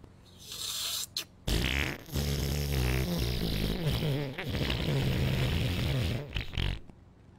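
A fart sound effect from GTA V roleplay, loud and repeated in a wet, sputtering burst after a short pause, stretching over several seconds.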